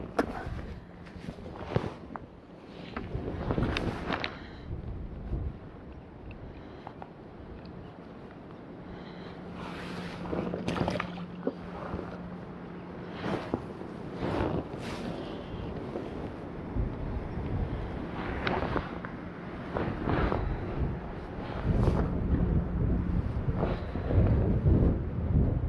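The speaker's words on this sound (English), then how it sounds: "Wind's pretty rough again today, isn't it?" Strong wind buffeting outdoors at a carp fishing spot, low rough rumbles and gusty thumps against the microphone, with scattered handling knocks and movement noises.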